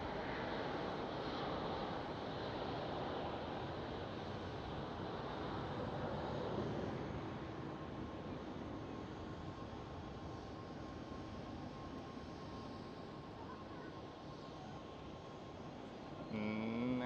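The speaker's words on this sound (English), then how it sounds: "Next one up for the departure on the runway 18 left is the KLM SkyTeam 737." A KLM SkyTeam Boeing 737 departing on runway 18 left at Schiphol, a distant, steady jet roar that stays broad and even throughout, fairly faint and unbroken by voices.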